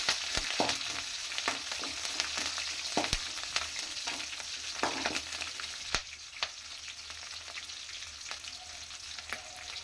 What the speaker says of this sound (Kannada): ಎಲ್ಲ ಸ್ವಲ್ಪ ಚೆನ್ನಾಗಿ ಫ್ರೈ ಆಗಲಿ.